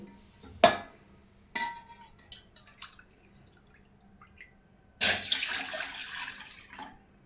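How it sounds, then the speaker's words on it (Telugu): Water is poured from a measuring cup into a bowl: a few short pours, then a longer, fuller stream runs in and trickles off, with faint clinks between. "ఈ కప్పుతో రెండు కప్పుల వాటర్ని అయితే మనము ఈ బౌల్లోకి యాడ్"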